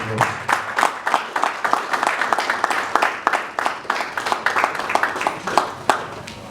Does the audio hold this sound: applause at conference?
yes